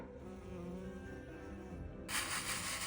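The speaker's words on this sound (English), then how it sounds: "Bird song and bees buzzing." Bees and flies buzz steadily close by in a garden on a summer evening, a continuous drone that grows brighter and louder near the end, with no talking.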